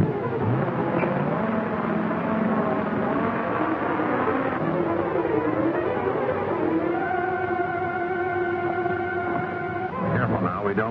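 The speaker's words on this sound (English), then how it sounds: "Look, that car is coming fast." A 1930s car engine drones and rises in pitch as it speeds up, with tonal harmonics climbing; voices and other sounds mix in over it.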